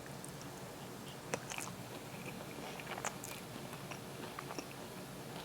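Close bites and soft chewing into a slice of plantain lasagna with seasoned tomato walnut filling, a few crisp crunchy accents over quiet chewing, no talking.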